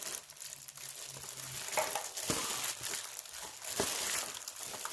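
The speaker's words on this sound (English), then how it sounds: "So now you'll need to mix it well." Cabbage is mixed by hand with fish sauce and seasoning for kimchi, giving wet crinkling and squishing sounds in uneven bursts, close and moderately loud with no talk.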